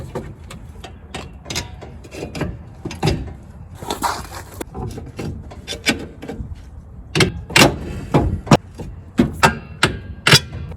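Light prying and scraping around a sticking rear brake wheel cylinder on a 1963 AMC Rambler, a series of sharp close metallic clicks and taps in irregular bursts with short pauses between them.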